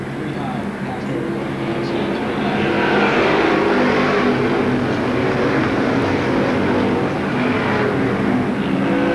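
Pro Stock race cars roar around Seekonk Speedway in a close 1992 race, a dense, continuous engine drone swelling slightly as the pack passes, with an announcer talking over it.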